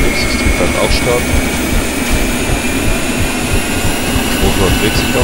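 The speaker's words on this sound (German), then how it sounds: "So, nächstes Triebwerk auch starten." Second engine of a Ka-50 Black Shark helicopter starting in the DCS World video game, a loud constant turbine roar and whine heard close up, while someone speaks over it.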